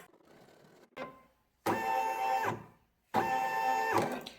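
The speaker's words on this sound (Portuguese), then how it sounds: "A primeira costura, como sempre, é a costura de marcação." A home embroidery machine sews the first marking stitch for a Christmas door-hook decoration. After a short whir and a pause, two longer bursts of humming, buzzing motor and needle run close by, separated by a brief stop.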